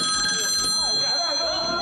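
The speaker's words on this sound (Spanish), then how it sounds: "que suene el teléfono" A telephone rings with bright repeated bell tones over a busy television-show background, with voices faintly under it.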